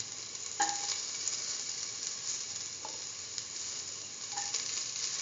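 Ginger sizzles in hot oil alongside shallots, a steady bright hiss with a few soft clinks of stirring, close and continuous with no talking.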